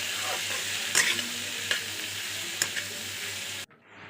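Spices and chopped tomato sizzle in a frying pan, a steady hiss broken by a few sharp scrapes and clinks of the stirring spoon, close up, before cutting to near silence.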